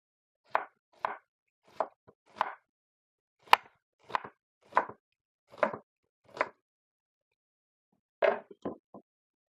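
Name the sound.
knife chopping onion on cutting board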